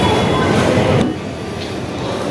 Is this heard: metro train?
yes